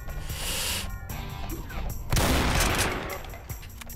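A burst of loud gunfire and a sharp crack amid electronic sound effects in the video game Complex DooM, close and punchy over a couple of seconds.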